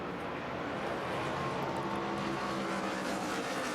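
NASCAR Nationwide Series stock cars roar as they accelerate on a restart at Texas, a dense, steady engine drone heard from a distance with no voices.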